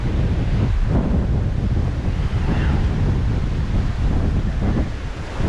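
Steady, loud winter wind at the port of Alcudia, Mallorca, buffeting the microphone, a constant rumbling roar throughout with no clear pauses.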